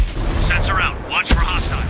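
Gunfire in Ghost Recon Breakpoint: a sharp, loud shot cracks once near the middle, amid game ambience and faint voices.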